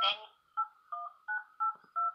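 Telephone keypad tones entering a date of birth into an automated state healthcare phone menu, a short electronic prompt followed by five evenly spaced dual-tone beeps, clear and close.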